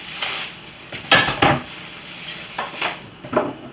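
Ground beef being mixed with breadcrumbs and eggs for Salisbury steak, with a few irregular clinks and scrapes against a bowl in short bursts, fairly close, with no talking.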